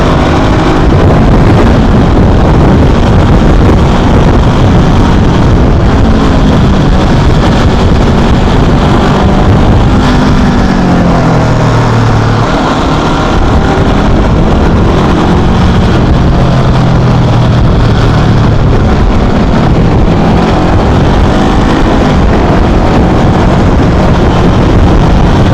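Motorbike ride on Tenerife in the Canary Islands, a steady loud engine drone with heavy wind buffeting on the microphone throughout, continuous and close with no talk.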